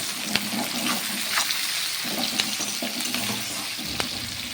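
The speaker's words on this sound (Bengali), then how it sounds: "আর তার সঙ্গে অ্যাড করবো আমরা টমেটো কুচি আর কাঁচা লঙ্কা কুচি এবার আমরা ভালো করে নেড়ে চেড়ে নেব" Chopped tomato and green chilli being stirred in a frying pan, a steady broadband sizzle with scattered scraping clicks from the spatula, fairly close and continuous, no voices.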